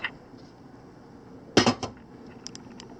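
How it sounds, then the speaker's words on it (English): A quick metallic clatter of a lid set down on a pot of boiling dumplings, a short burst of clanks against quiet kitchen background. "Close the lid."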